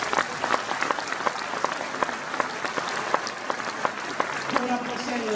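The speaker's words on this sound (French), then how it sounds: "On peut les applaudir" Audience clapping steadily for volunteers at a municipal gathering in Courtry, a dense, sustained round of applause with a voice coming in near the end.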